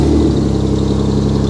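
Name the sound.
car engine running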